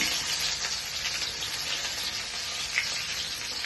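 Ginger sizzles and crackles in hot oil with mustard seeds and curry leaves, a steady close frying hiss with faint scattered pops.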